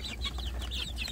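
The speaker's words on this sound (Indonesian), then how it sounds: "Pagi ini saya memberi makan anak ayam kampung saya yang ada di kotak pembesaran sedulur" Village chicks in a rearing box peep and cluck softly at feeding time, a steady stream of small high chirps that carries on through the whole moment without pause.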